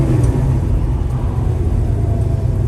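A 1967 Chevrolet Chevelle's engine runs with a loud, steady low rumble, heard close and continuous with no voices.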